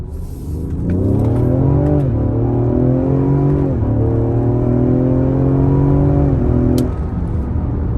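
A tuned Ford Explorer ST running 93-octane fuel accelerates hard from a standstill, its engine note climbing through several gears with brief dips at each shift, loud and close throughout with no speech.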